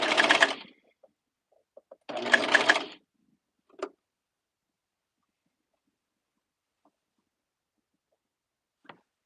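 A sewing machine stitches fabric in two short whirring bursts, each under a second, followed by a few faint clicks and long stretches of near silence.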